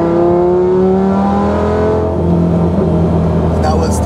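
A 2004 Lamborghini Gallardo engine revs hard in third gear, a loud, steady rising harmonic whine that climbs then eases, heard up close from inside with voices talking over it.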